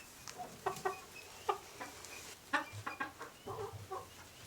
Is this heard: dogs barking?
no